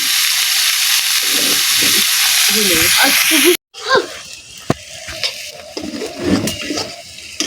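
Egg and potato stir-fry in oil, a steady bright sizzle that cuts off abruptly, followed by quieter scraping and stirring clatter with a voice talking.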